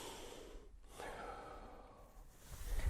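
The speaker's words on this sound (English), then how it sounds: "the next breath is going to be just taking breath into your tummy" A slow, soft breath drawn deep into the belly, gentle airy inhale and exhale sounds, faint and close, with no talking.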